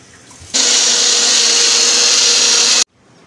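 An electric mixer grinds soaked pea dal into a paste, a loud steady whirring drone that starts abruptly, runs for a little over two seconds and stops sharply.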